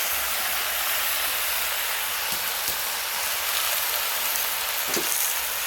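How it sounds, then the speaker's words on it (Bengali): Malabar spinach fries with spices in a pan for a fish-head chorchori, a dense, even hiss like rain under a few dull stirring knocks, close and continuous with no speech. "দিয়ে ভালো করে নাড়তে থাকবো, ভালো করে আমি নেড়ে নেড়ে একদম কষে নেবো"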